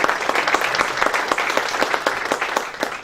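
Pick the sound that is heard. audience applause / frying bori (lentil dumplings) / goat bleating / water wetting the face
audience applause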